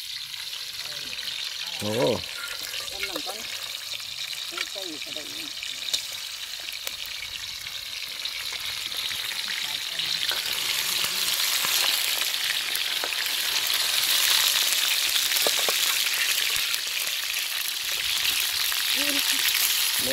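Mang ngao insects fry in a pan over a fire in a forest-edge outdoor cooking setting, giving a steady broadband sizzle that swells louder through the second half, with someone talking over it near the start.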